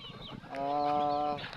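Farm chickens clucking and calling together during feeding time, a sustained tonal cluck rising over a busy flock murmur, close and fairly loud.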